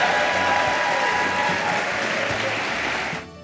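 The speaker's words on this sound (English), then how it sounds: "now would you applaud" Studio audience applauding, a loud, dense burst of clapping from many people that runs steadily, then fades out abruptly at the very end.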